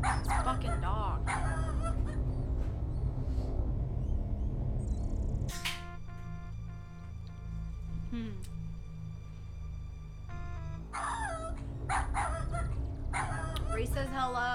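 In the King's Quest 7 adventure game, a dog yaps in quick, high bursts of barking at the opening and again later, separated by a stretch of tonal game sounds, while someone talks over it.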